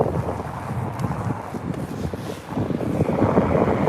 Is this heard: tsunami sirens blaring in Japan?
no